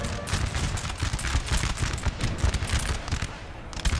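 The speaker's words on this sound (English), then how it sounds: "I imagine it's friendly cannon fire that it's actually sent them off" Cannon and musket fire in the Napoleonic-era strategy game Napoleon: Total War, a dense, continuous battle fusillade of overlapping booms and cracks, loud and sustained throughout with no clear gaps.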